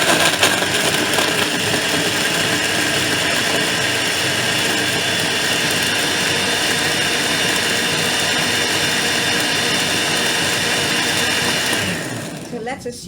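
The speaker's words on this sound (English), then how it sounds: "I'm going to just give you an example of blending for 3 minutes" A blender running at steady high speed as it blends turmeric and tamarind juice, a loud continuous whirring drone that stays even for most of the stretch before it winds down and cuts off near the end.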